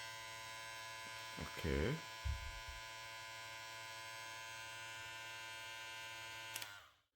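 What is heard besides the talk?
JRL 2020c hair clipper running at second speed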